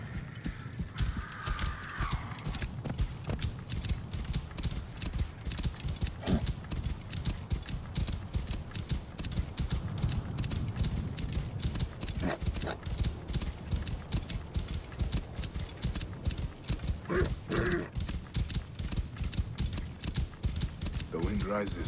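Horse hooves clip-clop steadily in the Egyptian desert of Assassin's Creed Origins, a brisk rhythmic gallop heard close throughout, with a brief whinny and faint wind beneath.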